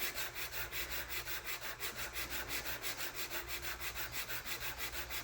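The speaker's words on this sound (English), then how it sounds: "We don't want to sand everything away." Steady back-and-forth sanding on a wooden part of a Model Shipways Norwegian sailing pram model, rhythmic rasping strokes about four per second, close and continuous with no talking.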